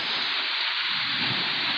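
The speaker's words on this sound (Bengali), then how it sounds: "এই যে দেখুন প্রচুর বৃষ্টি।" Heavy rain pours steadily over a village in a continuous dense hiss, close and loud, with no voices.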